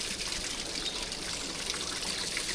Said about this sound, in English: You might hear the roar of the weir over there, and also the sound of that water coming off the fields there.